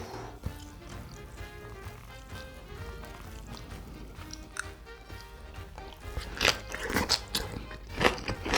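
Boiled pork belly eaten with bossam kimchi, heard as close, crisp crunchy bites and wet chewing over a steady soft background, with the bites growing louder and denser toward the end.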